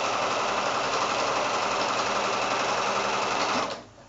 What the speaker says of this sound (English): So I'm just sewing to the left hand side of approximately 1/4 inch to the left hand side of that